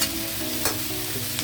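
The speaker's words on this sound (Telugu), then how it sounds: "కాలీఫ్లవర్ వేడెక్కిన తర్వాత ఇప్పుడు మనం టమాటోస్ వేసేద్దాం" Tomatoes hit a hot pan of cauliflower with a brief sizzle, followed by stirring and light frying hiss, close up and with no talking.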